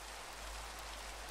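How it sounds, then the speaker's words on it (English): Steady rain falls in the Minecraft video game, a dense, even hiss of droplets with no pauses, fairly soft and uninterrupted throughout. "Hopefully the rain isn't too loud though."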